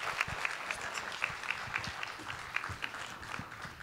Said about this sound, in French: On applaudit fort Rosemée Brochu!